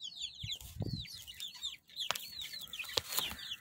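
Chickens and chicks cluck and cheep in a backyard bird enclosure that also holds parrots and pigeons, with quick high chirps and soft clucks repeating close by, and no talking.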